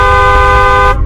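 A bus horn sounds one loud, steady toot lasting about a second, close and alone before cutting off sharply.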